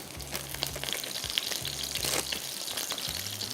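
A burger patty with a slice of cheese cooking in a pan over a low flame gives a steady soft sizzle and crackle, with faint low rhythmic thumps repeating underneath throughout.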